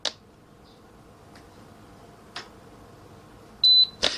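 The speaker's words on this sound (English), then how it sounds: "I'll hold down the down and up button together until I hear a little audible beep" Short electronic beeps from a digital water softener valve head as it unlocks: a faint chirp near the start, a few soft ticks, then a louder sustained beep followed by a second short one near the end, with no voices.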